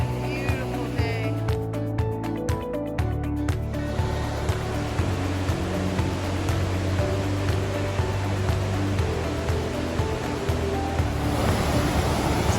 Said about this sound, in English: So now we are at the top of that waterfall.